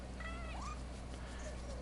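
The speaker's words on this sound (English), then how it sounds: "Scampus is a yokai, a demon cat" A demon cat yokai in the Nioh 2 video game gives a few short meows with rising and falling pitch over a steady low game hum, fairly faint.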